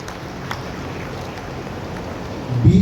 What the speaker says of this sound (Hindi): जोरदार तालियों से स्वागत करिएगा।